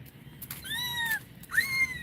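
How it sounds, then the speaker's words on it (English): A wild-sounding bird calls at night near saltwater, giving two slurred, whining, meow-like notes in quick succession against a faint background hum. "Oh, that's a crazy sounding bird."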